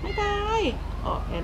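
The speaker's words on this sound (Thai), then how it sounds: "เมื่อกี้กูได้ยินเสียงแมวร้อง" A cat in the video game GTA V gives a single clear, drawn-out meow, close and fairly loud, followed by a man's speech.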